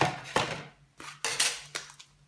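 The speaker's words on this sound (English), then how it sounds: "I'm going to just pop it through the Big Shot, so you may hear a lot of squeaking" A Big Shot die-cutting machine squeaks and clatters as a die sandwich is cranked through it, giving several short metallic squeals and rattles in uneven bursts, close and fairly loud.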